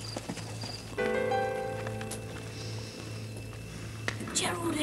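Horses walk with soft, irregular hoof clops, mixed with faint voices and a low steady hum.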